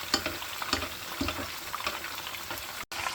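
Chapli kababs frying in shallow oil, with oil spooned over the top: a steady, fairly quiet sizzle and crackle, close by, with a few soft clinks and scrapes and no voices.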